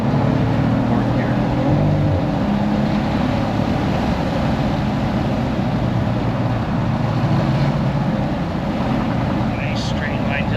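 A Cadillac CT4-V Blackwing runs at full throttle on the Thunderhill West track, its engine a steady, loud, continuous roar with a driving coach talking over it.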